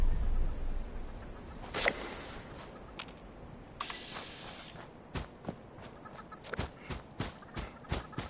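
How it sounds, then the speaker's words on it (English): Chickens cluck in the video game Fallout 76, with scattered short bursts and footsteps over a steady ambient bed, with no talking. "There's a bunch of chickens here."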